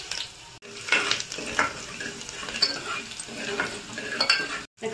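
Mustard seeds, cumin and asafoetida crackle and sizzle in hot oil for a vegetable masala, with a spoon stirring and scraping the pan close up in steady bursts.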